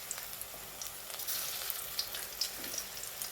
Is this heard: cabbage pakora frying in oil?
yes